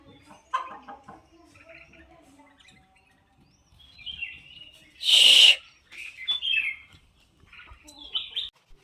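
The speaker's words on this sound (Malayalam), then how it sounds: "കോഴി അവിടെ ഹാജരുണ്ടാവും" Chickens in a village yard where paddy is drying in the sun, giving scattered clucks and calls with a louder squawk midway, against a quiet rural background.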